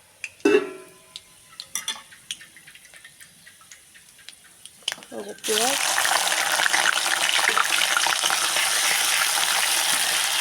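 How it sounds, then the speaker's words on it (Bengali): Onion and chili sizzling in hot oil over a dried-chili tempering, after a few clinks and thuds of cardamom, clove and cinnamon going in; a loud, steady, close frying hiss takes over partway through and continues to the end. "তো চলো আমি এটাই শুকনো লঙ্কার ফোড়ন দিয়ে আগে পেঁয়াজ আর লঙ্কা দিয়েছি"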